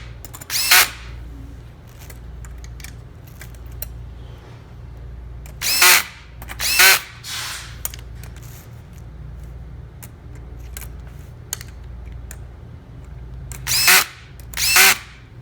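A power drill tightens bolts during a car headliner installation in short bursts, a few brief whirring runs spread across a quiet background hum, two coming close together near the start and two near the end.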